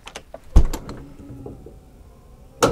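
The automatic entry step of a Winnebago Trend 23L camper retracts as the door closes, giving a loud mechanical clunk, a rattling whir and a second sharp knock near the end, close by.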